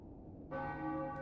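A single church bell strikes in Final Fantasy IX, a bright sustained toll with long ringing overtones that follows a quiet lead-in and hangs on without fading.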